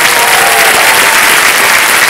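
Studio audience applause on the set of the quiz show Kaun Banega Crorepati 14, a dense, steady wall of clapping held at full strength throughout with no voices rising above it.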